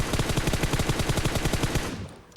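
Rapid automatic gunfire from a video game shooter, a fast steady burst of about twenty loud close shots over two seconds that cuts off abruptly, no voices over it.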